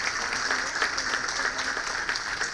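A church congregation at Mass applauds steadily, a dense wash of many hands clapping at once, loud and continuous throughout.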